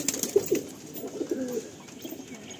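Madrasi pigeons in a home loft on a rainy day give a few low, soft coos close by, with faint background noise and no talk.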